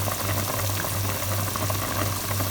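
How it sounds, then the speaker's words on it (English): Meat boiling in a pot on a Ghanaian-style stove: steady bubbling and simmering with a constant low hum beneath, moderately loud and close, with no voices. "I'm going to leave it to boil properly"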